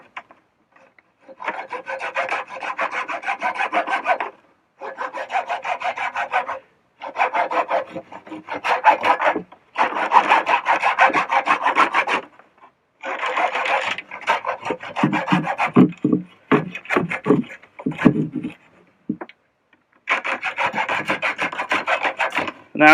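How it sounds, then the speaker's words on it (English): Rhythmic rasping strokes of a saw cutting through a wooden piece for a handmade ceramics tool, coming in repeated bursts separated by short pauses, close and fairly loud. "So I'm kind of cutting through the outside layer before I get to the middle."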